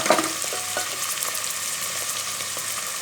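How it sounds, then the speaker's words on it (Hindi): Garlic ginger paste sautés in a pan with cumin, a continuous bright sizzle and crackle with a brief stir at the start, close and steady with no talking. "अब हम इसमें लहसुन अदरक का पेस्ट डालेंगे।"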